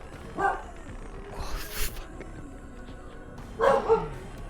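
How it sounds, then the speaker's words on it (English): A dog in the Witcharoo video game gives a few short, sharp barks spaced apart, moderately close, with faint background noise between them. "what is he barking about now?"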